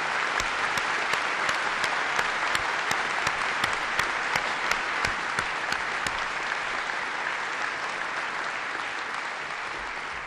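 A large audience at a military change of command and end of combat operations ceremony gives sustained applause, dense and loud with sharp individual claps standing out, then slowly tapering.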